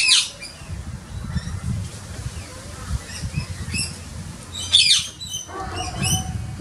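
A butcherbird calls from up in a tree, giving a couple of sharp, bright bursts near the start and again partway through, over a low, steady outdoor rumble.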